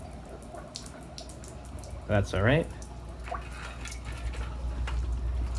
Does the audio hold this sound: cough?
no